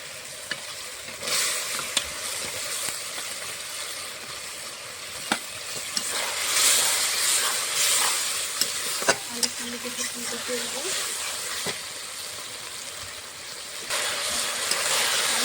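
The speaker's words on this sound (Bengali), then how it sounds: "মশলাটা কষানো হয়ে গেছে, ভিজে রাখা আলুটা দিয়ে দেবো।" Fried spice paste sizzles in a pan as soaked potatoes are stirred in for a kalo jeere tangra fish curry, a close steady hiss with scattered sharp clicks of the spatula and a swell of louder frying midway.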